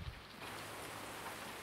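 Steady rain falls in the farming video game Farming Simulator 19, a soft, even hiss of raindrops that continues faintly throughout with no other sounds.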